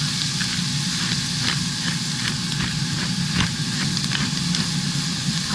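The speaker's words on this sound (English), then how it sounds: "we're going to let that saute for a few minutes" Pepper sautés in butter in a pan with a constant, even sizzle and hiss, close and moderately loud, with a few faint crackles scattered through it.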